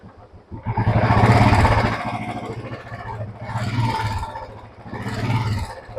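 Royal Enfield Bullet motorcycle engine revving up and easing off three times in a steady cycle, close and fairly loud with a low thumping idle beneath, no talk.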